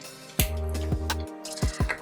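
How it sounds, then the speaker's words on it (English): A potato masher squishes chunks of cooked apples into chunky applesauce, giving several wet, squelching presses with sharp drops in a steady rhythm, close and fairly loud, with no talk. "Another technique you can do is take a potato masher"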